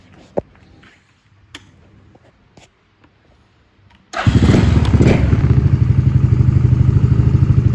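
A freshly rebuilt motorcycle engine cranks and catches easily, then settles into a loud, steady idle after a few quiet clicks and clatters.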